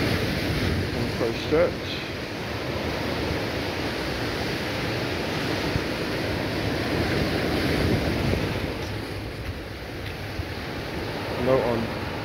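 Surf washes steadily onto the beach at Aqua Beach, Rockley, on Barbados's south coast, a broad rushing hiss mixed with wind buffeting, while someone speaks briefly over it.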